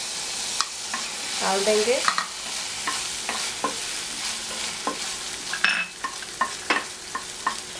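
Cauliflower Manchurian stir-fried in a pan: a spatula scrapes and clacks against the pan in an irregular rhythm over a soft sizzle, with a brief spoken line near the start.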